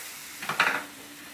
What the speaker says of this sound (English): So now the sizzling brownie is ready.